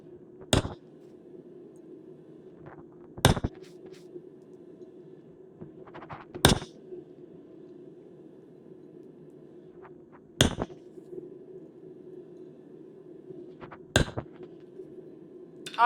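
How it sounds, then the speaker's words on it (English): Hot steel for a J hook is hammered back on itself at a blacksmith's anvil: five or six loud, ringing hammer blows spaced a few seconds apart, each cutting sharply through a low steady hum of the forge. "And start hammering it back on itself."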